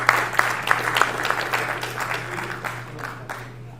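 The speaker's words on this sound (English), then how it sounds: "May we have a huge round of applause." An audience at the Gujarat Blockchain Summit gives a short round of applause, with a few sharp claps standing out over a low electrical hum. The clapping tapers off toward the end.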